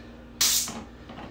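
A sudden fizzing hiss bursts in as club soda pours into a glass over ice, loud at first, then fades into a soft crackling bubble over a quiet background.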